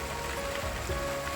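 Steady rain falling in a rural Lao setting, a dense continuous wash of drops on surfaces with a faint steady tone underneath, no voices.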